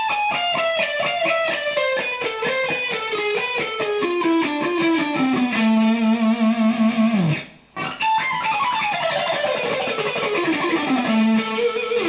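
Distorted electric guitar running a rapid A harmonic minor lick with downward pickslanting, quick picked notes descending to a sustained low note, a brief pause, then the run repeating, loud with no voice.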